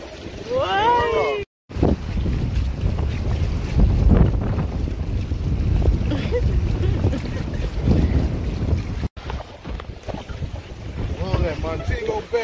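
Motor boat ride out at Montego Bay, with steady engine and water rumble mixed with strong wind buffeting the microphone; people talk and call out over the continuous noise.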